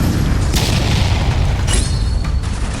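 An anime Fire Bullet spell strikes its target with a loud, sustained booming impact. Bursts flare near 0.6 and 1.7 seconds over a dense low rumble.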